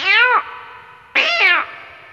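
A man imitates an old village cat meowing, giving two long, loud, drawn-out yowls that bend downward, separated by a short pause.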